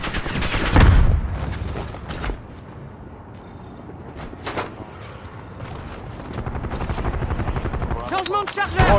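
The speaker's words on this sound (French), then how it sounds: "Drone hostile dans la zone." Game gunfire bursts with mechanical whirring from a hostile drone in a first-person shooter, busy and loud at first then settling under chatter, with rapid shots near the end; voices talk throughout.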